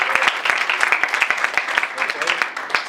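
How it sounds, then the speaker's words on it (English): Audience at a poetry and music event giving themselves a round of applause, a brisk steady run of close handclaps with voices mixed underneath. "So give yourself a round of applause"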